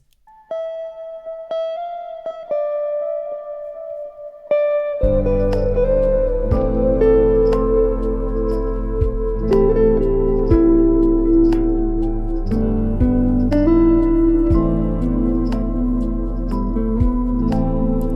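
A soft, reverberant guitar melody plays alone at first, then a layered lofi beat with bass and drums joins in under the echoing notes.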